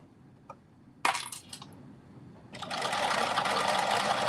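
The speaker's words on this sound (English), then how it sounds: "I'm sewing on the other side" A home sewing machine stitching a garment seam, a steady mechanical whir starting partway through after a few sharp clicks and clatters, close and fairly quiet.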